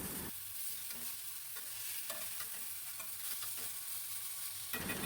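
Thecha paste of coriander leaves, green chilli, garlic and peanuts is stirred in a pan, giving a steady low sizzle with repeated soft scraping strokes, close and fairly quiet, with no voices.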